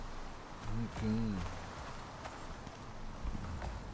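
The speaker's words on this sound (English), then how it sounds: "Our mounts, our pack horses." Horses' hooves clip-clop in an open-world video game, a steady patter of steps behind ambient game sound, with a few tonal game cues and a voice speaking briefly.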